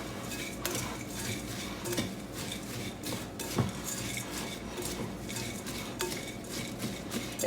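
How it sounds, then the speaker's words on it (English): Wet and dry granola ingredients with almonds get stirred together in a bowl: soft, quiet scraping and shuffling with occasional light clinks of a utensil against the bowl. "we're just gonna mix this together. Make sure all those wet ingredients are incorporated with the dry."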